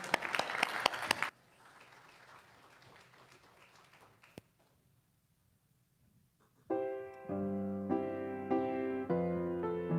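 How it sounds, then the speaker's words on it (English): A congregation gives a short burst of applause at a Sunday church service, the clapping cutting off after about a second before a quiet pause and then sustained music. "Let's give him a round of applause."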